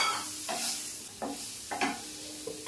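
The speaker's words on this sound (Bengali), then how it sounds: "টমেটোটা দিয়ে দিলাম।" Tomato hitting a hot frying pan with a sustained sizzle, while a spatula scrapes and stirs in several distinct strokes about every half second, close and moderately loud with no talk.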